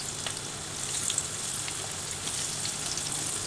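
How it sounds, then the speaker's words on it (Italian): Stuffed olives all'ascolana fry in hot oil, giving a steady, close hiss of bubbling sizzle with small crackling pops throughout, with no voices. "adesso le olive stanno friggendo circa una decina di minuti"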